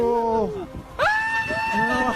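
A fan lets out a loud, excited, high-pitched scream on meeting a football idol, close and sustained, in two drawn-out wavering cries separated by a short break.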